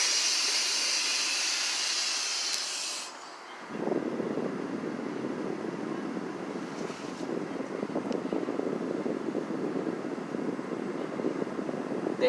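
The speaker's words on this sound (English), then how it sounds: "Now I'm going to release all brakes and wait for the needle to settle down." Air brakes on a truck release with a loud hiss of escaping air that cuts off after about three seconds, giving way to a steady low engine idle that carries on to the end.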